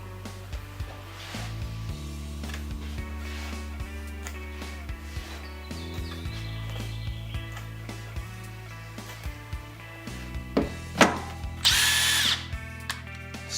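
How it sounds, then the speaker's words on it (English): A power drill fitted with a screw drill bit for 8-32 threads drills holes for a pocket door track, its motor whining in steady stretches at shifting speeds with clicks and clatter between runs, ending in a brief high squeal. "And we'll get the appropriate screw drill bit for an 832."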